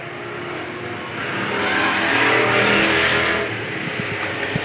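Race cars at Bakersfield Speedway charge hard into a corner, a loud continuous engine roar swelling as they pass close and then easing back, with no talk over it.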